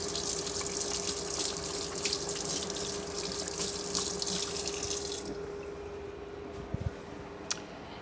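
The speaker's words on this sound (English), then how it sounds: "Give my hands a little rinse." Hands rinsed under a running tap, a steady rush of water splashing into a sink for about five seconds, then it shuts off, leaving faint drips and small handling sounds, close by with no speech.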